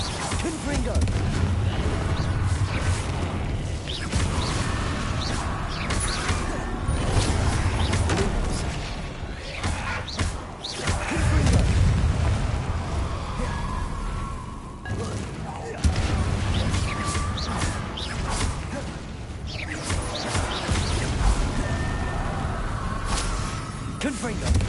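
Confringo fire spells blasting during a Hogwarts Legacy battle, dense booms and crackling bursts piling up continuously, loud and busy throughout, with game speech and chatter mixed in.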